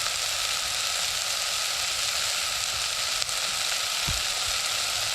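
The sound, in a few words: sautéing vegetables on a camping stove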